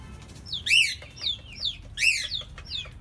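Chickens gathered near an outdoor fire cluck and squawk in several close, rising calls, with a few bursts following each other over a low background hum.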